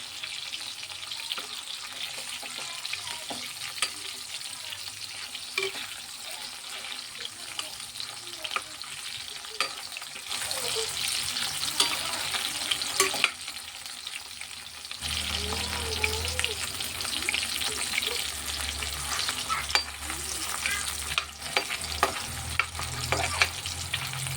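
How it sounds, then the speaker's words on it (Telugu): Pieces of dried fish fry in oil for a village-style dried fish curry, giving a continuous close sizzle with faint scraping and clinks. The sizzle swells louder about midway and stays that way. "ఇలా మనం ఫ్రై చేసుకుంటే ఏంటంటే మనకి పులుసులో కొంచెం ఇడిపోకుండా ఉంటుంది పీస్ పీసులాగా కొంచెం గట్టిపడుతుంది"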